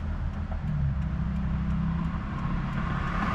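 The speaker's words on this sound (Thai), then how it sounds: "สตาร์ทแล้วรีบขับรถ" A car engine runs close by with a steady low rumble that holds at a constant level, and no voices are heard.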